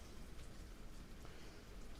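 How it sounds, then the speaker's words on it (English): Rain falls outside after a thunderstorm, making a faint, even patter and hiss with no other sounds. "It's raining outside."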